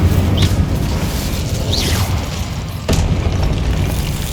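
Confringo and Incendio spell blasts in the video game Hogwarts Legacy: a steady roaring, booming wash of explosions with a sharp burst near the end, continuous and loud throughout.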